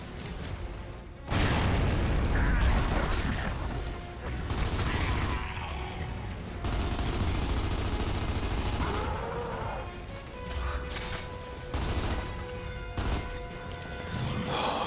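Grenade blasts and heavy gunfire in the video game Gears of War 2: loud, continuous combat with repeated booming explosions and rattling shots across the whole stretch, faint voices occasionally under the noise.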